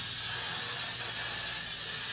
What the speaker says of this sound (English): just use the Got to Be Glue free spray